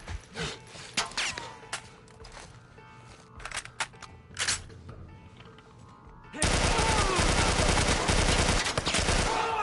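Gunfire in The Last of Us Part I: a series of scattered sharp shots, then a sustained, loud burst of rapid automatic fire that lasts the final three seconds.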